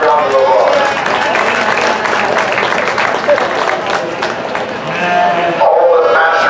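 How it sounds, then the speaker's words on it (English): A crowd at a youth sheep show claps and cheers in a dense, steady burst of applause, with sheep bleats and voices mixed in near the end. "Let's give them all another nice round of applause."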